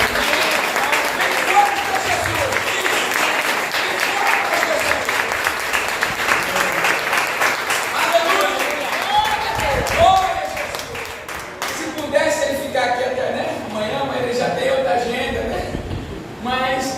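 A church congregation at a Saturday service applauding, a long sustained wash of clapping with voices and calls mixed in that thins toward the end.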